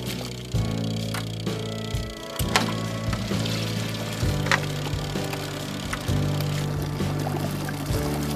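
Water runs into a portable washing machine tub, a steady close gush of pouring with hollow knocks and a constant low hum, and a few sharp clicks scattered throughout, with no voices.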